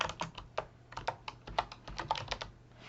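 Rapid typing on a computer keyboard while entering comment text for grading in Google Classroom, with a quick, irregular run of close, crisp key clicks and no talking.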